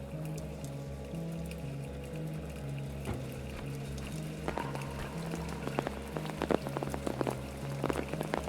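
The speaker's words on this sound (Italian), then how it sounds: "Addirittura la pioggia che sbatte sul telo" Rain drumming on a tarp in the video game Apsulov: End of Gods, a steady patter of drops that grows denser and more spattery partway through, heard over a low pulsing ambient hum.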